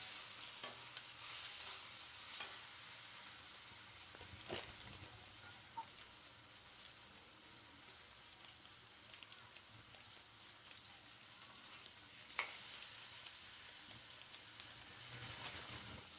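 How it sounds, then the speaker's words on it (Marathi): Ingredients for Nilanga rice fry in oil with a quiet, even crackle. Occasional soft stirring ticks break the faint, steady sizzle. "यामधला कच्चेपणा जाईपर्यंत फ्राय करून घ्यायचे तेलात."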